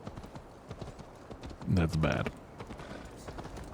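Horse hooves clip-clop at a steady pace in the video game Assassin's Creed Valhalla, with someone talking over them for a moment partway through.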